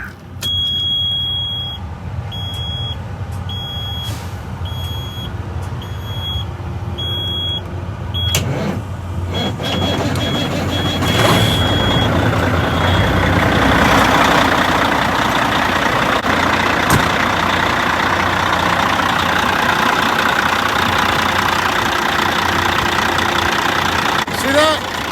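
A Peterbilt 379 truck's diesel engine, sitting for a couple of days in the cold, cranks and settles into a steady rumbling idle heard up close, with a high electronic beeping early on.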